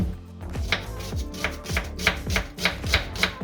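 A knife finely chops a very large onion on a board, giving quick, regular thuds at close range, about three per second, with no talk.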